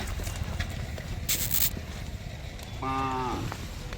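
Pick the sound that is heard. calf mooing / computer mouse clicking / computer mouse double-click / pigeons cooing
calf mooing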